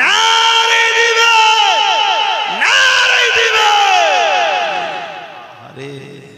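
A large religious gathering roars back a loud, drawn-out chant of Allahu Akbar in unison in answer to the call of Nara-e-Takbir, with several swelling shouted waves that fade toward the end.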